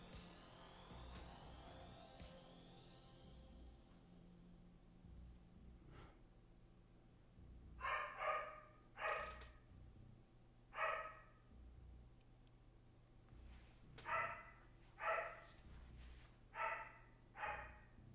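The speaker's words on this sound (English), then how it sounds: "That dog didn't bark once when I was moving in yesterday. And he or she's been barking all fucking day today." A dog barking repeatedly in the distance beyond the room, a run of short sharp barks in uneven pairs and singles over the second half, faint under a low steady hum, with no talk.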